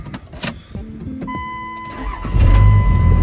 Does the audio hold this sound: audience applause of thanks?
no